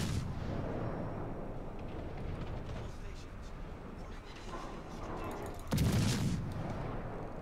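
Ship artillery firing in the World of Warships game, a rumbling battle din with a loud booming salvo near the end, heavy and low under a continuous background roar.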